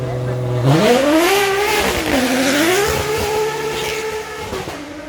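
A Zenvo with a 2.88-litre twin-turbo hybrid flat-plane-crank V8 sweeps past, its loud engine note climbing through revs, dipping and rising again as it nears and fades, with a smooth harmonic howl.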